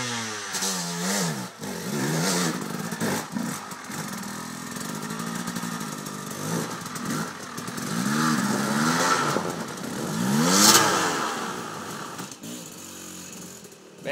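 An enduro motorcycle revs hard with its front wheel lifted, its buzzing engine pitch rising and falling in repeated sweeps, loud and close, peaking near the end; faint shouting voices sit under the engine at times.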